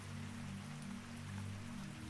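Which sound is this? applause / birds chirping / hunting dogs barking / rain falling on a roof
rain falling on a roof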